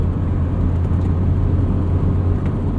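A 1999 Honda Civic Si with its B16A2 engine produces a steady, loud engine drone with a deep low rumble throughout while driving, without distinct rev sweeps.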